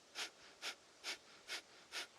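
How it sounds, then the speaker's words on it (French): Kapalabhati breath of fire during a Kundalini yoga session: five sharp, forceful nasal exhalations come in an even rhythm about every half second, close and quiet, with near silence between them. "On va venir faire la respiration du feu, donc Kapalabhati."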